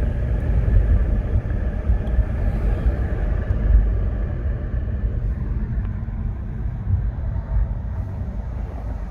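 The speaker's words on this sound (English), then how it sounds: "And you can hear the car with the windows down." A Lexus GS 350 driving with the windows down, a steady low engine rumble and road noise close by, rising slightly in the first few seconds, with no voices.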